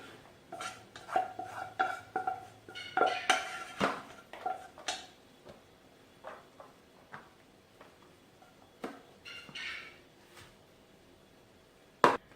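Rice and taco casserole mixture being scooped into a prepared casserole pan, with a series of light clinks, scrapes and taps of a spoon against the dish, irregular and moderately faint with quiet pauses between.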